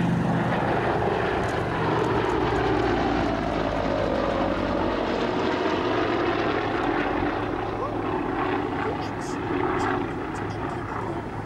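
A Russian Yak propeller aircraft flies past at an airshow, its engine drone rising and falling at a distance while a commentator talks over a public address.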